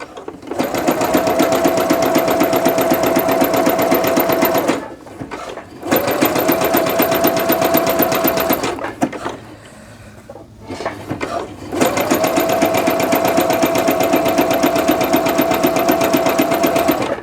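A sewing machine stitches the front of a pair of joggers past the faux fly in three long, rapid, rattling runs, with short pauses between them, loud and close.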